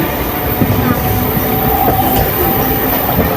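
A moving train rolls along the line out of Howrah station toward Kolkata, a loud continuous rumble with faint rhythmic wheel clatter and a thin squeal, close and steady throughout.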